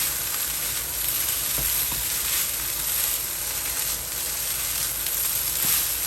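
Guyanese-style pepper shrimp fried rice frying in a pan gives a constant loud sizzle and hiss, steady throughout with a couple of faint taps, and no voices.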